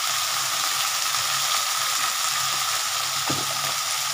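Okra and potatoes sprinkled with turmeric frying in a pan, an even loud hiss of oil that carries steadily throughout, with a single brief stir knock near the end and no one talking.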